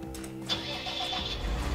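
A vehicle engine cranks and starts in a farming simulator game, a close mechanical whir that settles into a low, steady idle rumble, with no talking.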